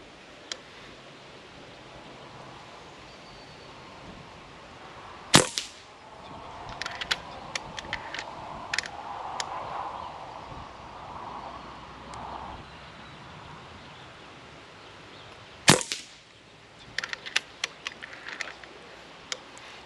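A Reximex NYX .25 calibre PCP air rifle fired outdoors, two sharp, quiet shots about ten seconds apart, each followed by a scatter of faint ticks and rustles against a soft windy background.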